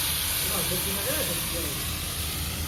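Pieces of bagha fish fry in hot oil in a pan with a steady, even hiss, while a voice talks faintly over it.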